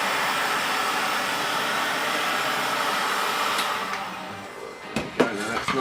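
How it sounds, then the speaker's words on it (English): A heat gun blows a steady, loud broadband hiss as it heats flat plastic parts for a budget BB-8 body build, then cuts off near the end, leaving a few brief knocks and handling noises. "You need to get your heat gun out."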